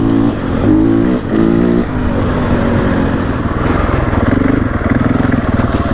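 A KTM 500 EXC-F enduro motorcycle, a 2024 model, roars loud and close while riding off-road trails, the engine revving up and down in bursts, then holding a rough, pulsing drone.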